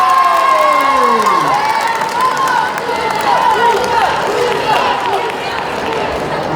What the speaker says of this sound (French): on va accueillir, mesdames et messieurs, avec un tonnerre d'applaudissements